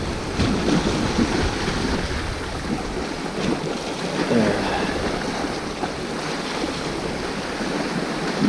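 Sea waves washing in on a rocky shore with the tide rising fast, a constant close wash and surge of water mixed with gusty wind noise on the microphone, with no clear talk.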